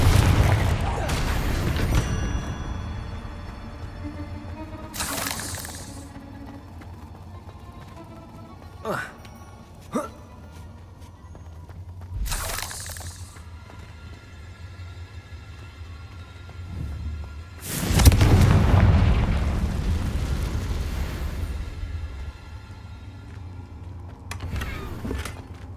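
Several heavy blast explosions from Confringo fire spells in Hogwarts Legacy, booming in separate bursts spaced several seconds apart, the largest near the end with a rumbling tail, over a low game ambience with voices at times.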